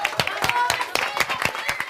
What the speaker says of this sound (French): qu'on s'applaudisse tous parce que c'est génial